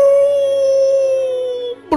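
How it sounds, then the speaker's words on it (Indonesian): A dog howls in one long, steady, sustained tone that holds for most of the moment before breaking off abruptly at the end, loud and close with no talk over it. "Anjing melolong"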